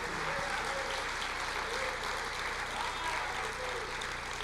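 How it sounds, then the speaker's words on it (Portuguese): A church congregation applauding during a sermon, a steady wash of clapping heard faint and somewhat distant under a constant low hum, even throughout with no clear individual claps. "Pode aplaudir o Senhor"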